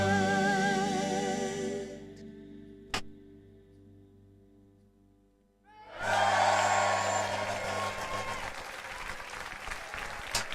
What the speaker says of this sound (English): Lovely round of applause.